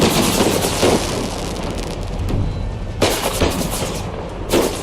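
Artillery cannon fire in the Empire: Total War strategy game, a dense barrage of booming shots and rumbling blasts with sharp reports near the start, around three seconds and at the end, over continuous battle noise.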